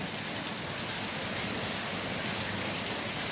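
Rain that has kept falling since the day before makes a steady, dense hiss, even and unbroken at moderate level, with no voices.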